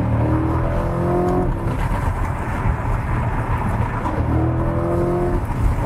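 A naturally aspirated Corvette C8 Stingray engine accelerates in a steady, loud, close drone, its pitch rising and falling twice, with no voices over it.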